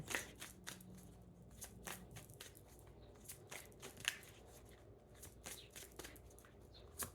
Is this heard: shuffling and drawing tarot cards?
yes